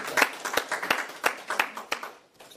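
A church congregation claps in thanks to the Lord, the crowd's clapping carrying a loose pulse of stronger beats about every third of a second, steady at first and then thinning and fading out near the end.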